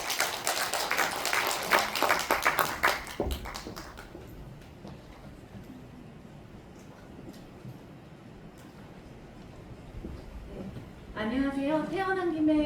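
An audience at a presentation contest claps briskly for a few seconds, then the applause fades into room noise before a voice begins speaking.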